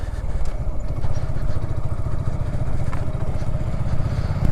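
A motorcycle engine chugging loudly and steadily up close as the bike rides through sand near Teknaf beach, its rhythmic putter never pausing.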